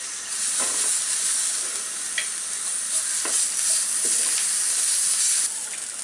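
Cumin, turmeric, chili powder and ginger-garlic paste fry in a pan for cauliflower paratha filling, a loud continuous close-up sizzle with a few faint stirring clicks.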